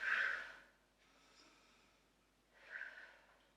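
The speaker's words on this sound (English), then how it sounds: "In through the nose, out through the mouth." Someone doing a HIIT Pilates workout breathes in through the nose and out through the mouth, close and soft: a sharp intake, a long airy exhale, then another firm breath.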